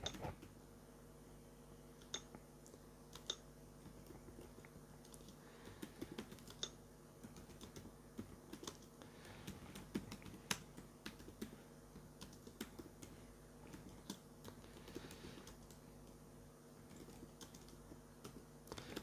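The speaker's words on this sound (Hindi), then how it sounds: "मैं यहाँ पे टाइपिंग करके आपको दिखा देता हूँ किस प्रकार आप अपनी स्पीड को बढ़ा सकते हैं।" Keys clatter on a computer keyboard during a typing test, a steady, fairly quiet stream of rapid clicks with no voices.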